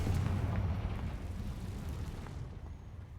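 A Confringo explosive spell cast in Hogwarts Legacy erupts in a loud, deep blast whose rumbling roar slowly decays and thins out, with no voices over it.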